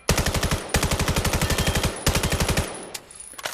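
MK418 gun firing in the VR shooter Vail, two long bursts of rapid, evenly spaced shots with a brief gap between them, close and loud, then trailing off into scattered sounds.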